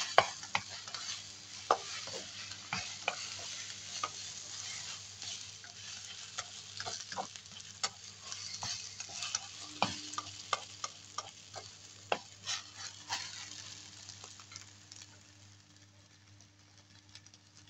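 Banana peel stirred and frying in a pan, a steady low sizzle with repeated scraping clicks of the utensil, close and fairly quiet, with no talking.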